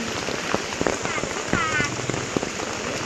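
Steady rain pattering on a surface at an outdoor market, with scattered heavier drops and splashes close by, continuous throughout with no talking.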